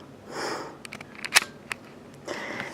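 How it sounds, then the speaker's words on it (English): A single sharp mechanical click of a shutter closing stands out amid quiet rustling and faint soft sounds. "now I just closed the shutter"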